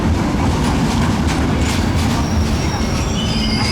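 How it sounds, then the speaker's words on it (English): A passenger train pulls into a station in Morocco, its loud, steady rumble and clatter close by, with wheel squeal and a faint voice heard under the noise. "That's our train."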